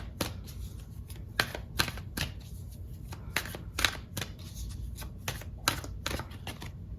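Tarot cards are shuffled and drawn by hand, with crisp riffling snaps and flicks coming in quick irregular bursts, close and fairly quiet, with no voices.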